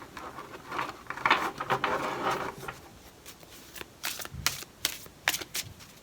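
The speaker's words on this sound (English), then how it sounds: "I'm just going to shuffle them a couple more times for you" Tarot cards being shuffled by hand: a run of papery riffling and rubbing bursts, then several sharp, crisp snaps and taps of the deck, close and fairly quiet with no voices.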